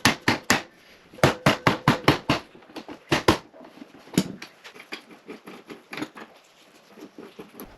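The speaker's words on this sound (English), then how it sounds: "now I'm using an impact screwdriver to get them loose" Hammer blows driving an impact screwdriver to loosen slotted tamper-proof bolts on a Honda VFR800 ignition switch lock set: a fast series of sharp, close metallic strikes in bursts, then lighter scattered taps.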